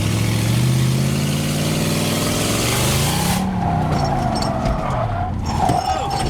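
A 22-year-old Lexus V8 car drifting, its engine droning and rising in pitch for a few seconds before the revs drop away, followed by lighter tire and mechanical noise close by.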